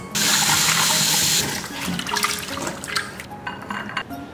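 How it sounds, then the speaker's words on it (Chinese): Boiled pork belly rinsed under a running kitchen tap, a loud steady gush of water hitting the meat and sink, then breaking into irregular splashes and clatter as the pieces are handled. "煮开后把它捞出来洗干净。"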